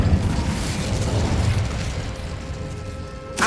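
The Incendio fire spell from Hogwarts Legacy gives a sustained, loud rushing roar of flame with low rumble that slowly fades. A sharp burst comes at the end.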